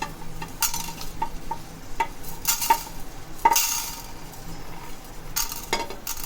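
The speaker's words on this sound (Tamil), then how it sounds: "இப்போ எண்ணெய்லாம் ஊற்றாமல் இதை வறுத்து எடுக்க போகிறோம்" Chana dal dry-roasted in a hot pan without oil, with a utensil scraping and stirring the lentils in intermittent clinks and rattles, no voices present.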